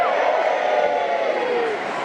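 Convention audience at a Red Dwarf fan talk cheering and murmuring together as a steady, dense crowd roar that holds level for about two seconds, with some voices mixed in.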